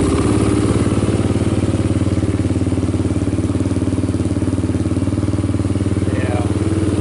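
A rebuilt Honda TRX300EX ATV engine runs loud and steady close by, a dense rapid idle clatter holding throughout with no break.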